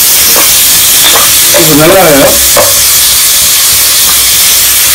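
Tomatoes and onions fry in masala for mutton biryani with a loud, close, steady sizzle and hiss, a spoon stirring and scraping the pan, and a brief bit of speech in the middle.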